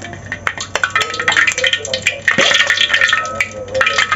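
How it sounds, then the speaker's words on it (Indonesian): Cooking oil poured in small amounts into an already hot pan while frying anchovy fritters (cucur ikan bilis), giving a close, steady trickling hiss with scattered crackles and clicks and no talking. "Okay, kita masukkan sikit-sikit minyak dalam ni."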